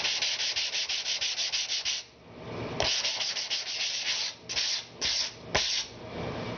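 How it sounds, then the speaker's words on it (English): A primer-clogged sanding block is rubbed clean with a series of loud, close, rhythmic scrubbing strokes, broken by short pauses, with no one speaking. "let's say you've got a sanding block here. As you see, it's got some primer on it."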